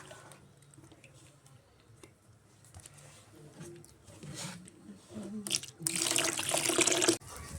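Water is poured and splashes near a clay stove while rice-flour pitha batter is prepared for Poush Parbon, starting faint and swelling into a louder gush toward the end.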